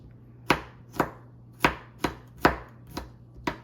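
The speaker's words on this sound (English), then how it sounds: "let's chop the garlic." A knife chops garlic on a cutting board for scotch bonnet pepper hot sauce, with seven crisp, evenly spaced thuds heard up close and no talking.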